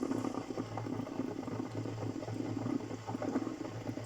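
An electric kettle in a home kitchen brings water to the boil. It gives a steady, close bubbling rumble with a faint rattle, fairly quiet and constant throughout.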